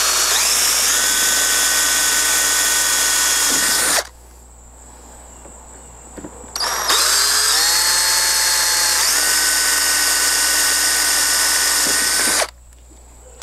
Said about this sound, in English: Back to the 9/64 bit. Put a couple set screws in here.